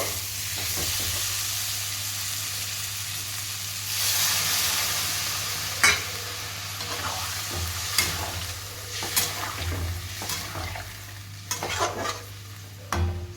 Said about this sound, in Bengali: আলু আর কাঁচা কলাটা কিন্তু আমার কষানো হয়ে গেছে এবার ও আমি এবার এর মধ্যে জল দিয়ে দেব